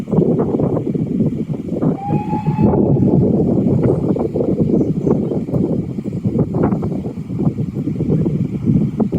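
A steam train on the Paignton to Kingswear line rumbles steadily past at moderate distance near Goodrington beach, with a brief high whistle early on over the continuous clatter.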